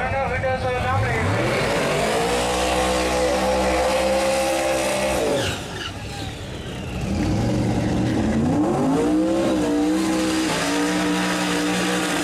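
Small-block twin-turbo Chevy in a Mustang drag car at a Street Outlaws event, with engines revving loud and close in rising and falling pulls, a brief lull midway, and speech heard under the engine noise.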